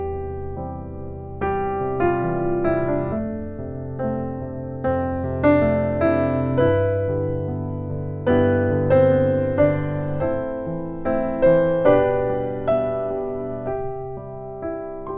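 Piano plays a slow sequence of sustained chords, some in first inversion and some in root position, each struck firmly and left to ring before the next, with no voices.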